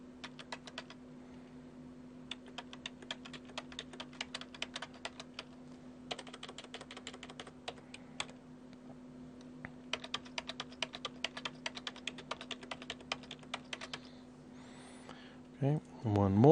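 Fingers typing on a computer keyboard while entering data into an Excel spreadsheet, quick bursts of light key clicks with short pauses, close but quiet over a steady low hum, a brief voice at the very end.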